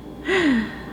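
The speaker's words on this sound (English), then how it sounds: "I'm just gonna fully yawn here without trying to hide it." A single drawn-out yawn, close and loud, swelling into a breathy rising-then-falling vocal sigh that lasts under a second.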